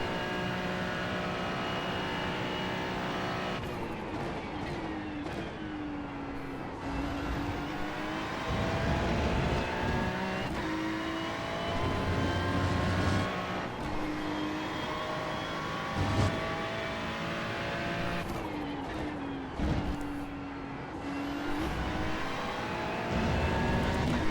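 Engine of a Ferrari race car at Road America in a racing video game, a steady loud drone with rising and falling pitch as it shifts through gears, with no one speaking.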